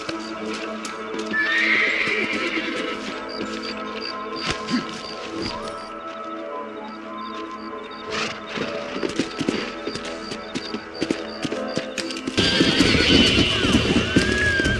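Horses neigh and whinny loudly while hooves clip-clop in a gallop, with occasional thuds and crashes in a busy Red Dead Redemption game soundscape.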